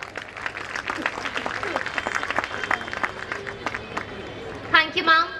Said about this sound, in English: A great round of applause, everyone